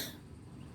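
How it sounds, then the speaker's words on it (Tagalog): A single short cough sounds close and fairly quiet at the very start, then gives way to a low background rumble. "pasensya na po sa ubo"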